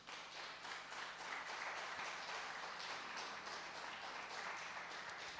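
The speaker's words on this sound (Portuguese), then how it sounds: "Aplauda o Senhor Jesus" A church congregation applauds in steady, dense clapping that sounds somewhat distant and continuous, with no voices over it.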